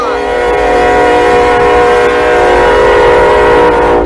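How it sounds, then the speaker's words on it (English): A train in the Roblox game Train Wrecker rumbles steadily along the tracks, its loud horn sounding in sustained, layered tones throughout. "here's the next train coming down the line"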